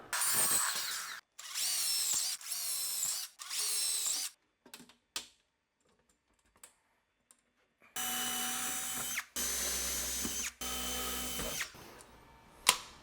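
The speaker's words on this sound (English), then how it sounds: "now we can just put the screws straight into the back" A power drill drives screws into wood blocking behind a wall while a custom glass shower is installed, with several loud bursts of whirring and ratcheting separated by short pauses and light handling clicks, close by.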